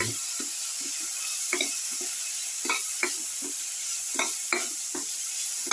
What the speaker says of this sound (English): Salt and mix the tomato pieces.